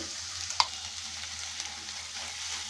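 Freshly ground green chili paste added to a hot pan for amaranth leaf curry, a steady close sizzle with a sharp tap at the start.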